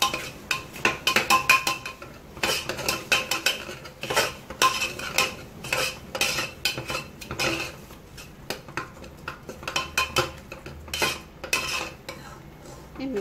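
A spoon works through raw mango pickle and fenugreek powder in a pan, giving close, repeated clinks and scrapes against the metal in an irregular stirring rhythm, with no voices.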